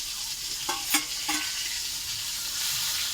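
Fried pointed gourd is stirred in a pan with a coconut, mustard and green chilli paste, giving a constant close sizzle broken by a few sharp scraping knocks of the spatula, with no voices.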